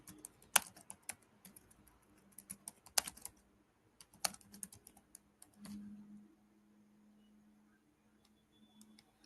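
Computer keyboard typing, bursts of sharp key clicks with pauses between, close and moderately loud in a quiet room with a low hum.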